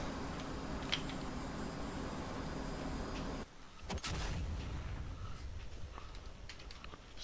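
Bombs striking ground vehicles in the DCS flight simulator over eastern Afghanistan, heard from an F/A-18 Hornet cockpit as a dull sudden blast that cuts through steady engine drone, followed by scattered distant thuds.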